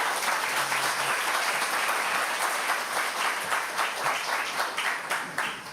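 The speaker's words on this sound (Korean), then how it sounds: "우리 목사님 나오실 때 박수로 환영하겠습니다" A church congregation at a Sunday worship service applauds to welcome the pastor to the stage, steady dense clapping from many hands filling the room throughout, loud and continuous without a break.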